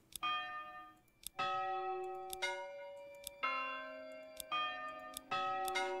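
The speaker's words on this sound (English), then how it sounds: "You can even change the sound of the bell." A small village bell from the Manor Lords game rings in clear, resonant strikes, about six or seven tolls in an uneven rhythm, each decaying slowly, heard alone.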